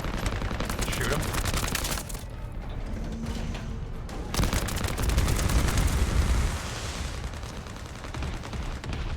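Continuous automatic weapon fire in The First Descendant, loud, dense shooting that runs almost without pause, briefly thinning then swelling into heavier bursts against a boss enemy.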